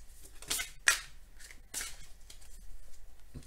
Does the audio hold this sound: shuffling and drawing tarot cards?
yes